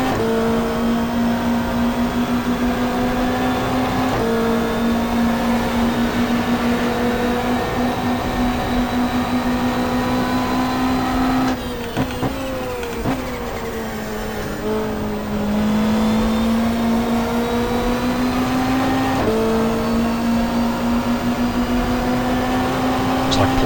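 Touring car engines scream in GTR2 at Symmons Plains, including a BMW, with a loud, sustained high whine that drops briefly on a gear change or lift-off before climbing again, with commentary over it.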